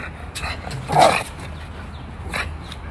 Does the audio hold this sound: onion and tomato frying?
no